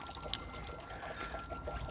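A small garden water fountain trickles softly and continuously outdoors, faint and steady, with no voices.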